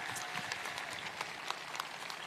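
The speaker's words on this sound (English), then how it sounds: "Please give them another round of applause." Faint applause from a crowd at a high school graduation ceremony, a continuous patter of clapping with a few sharper individual claps standing out, heard from a distance.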